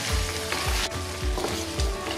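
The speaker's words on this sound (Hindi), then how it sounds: "मिर्चों के साथ हम गोश्त को फ्राई करेंगे" Mutton frying with green chillies over low heat in a pan, close steady sizzle broken by four or five regular spatula scrapes and thumps, no voices.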